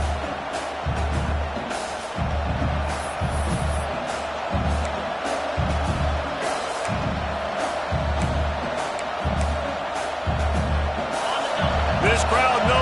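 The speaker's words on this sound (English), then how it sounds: "This crowd knows they have to bring it in big moments" Football stadium crowd at a Michigan vs Oregon game, a loud continuous roar with rhythmic surges of noise and thumping, with a commentator talking over it throughout.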